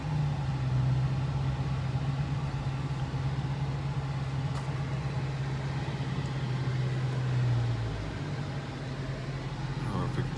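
Steady low engine drone of a 2014 Dodge Challenger R/T 100th Anniversary Edition being driven, heard from inside the car at an even level, with a slight change in tone near the end.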